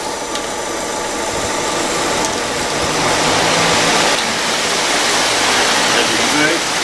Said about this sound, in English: It's a big fan, it's quite windy.